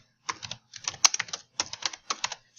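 Quick bursts of keystrokes on a computer keyboard as a search term is entered, crisp close clicks in three or four short clusters separated by brief pauses, quiet and without voices.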